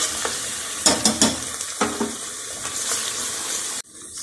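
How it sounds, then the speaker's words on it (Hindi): Onions frying in a pan for a gobhi gosht curry as ginger garlic paste goes in, a steady close sizzle with several stirring scrapes and clatters, cutting off abruptly near the end. "अब मैं अदरक लहसुन का पेस्ट डालने लगी हूँ 1 चम्मच।"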